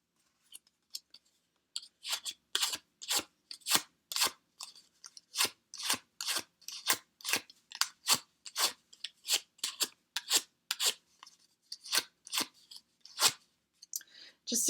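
Craft paper leaves curled with a bone folder, making a long run of sharp, evenly spaced scraping crunches close up, each stroke distinct and loud with brief silences between.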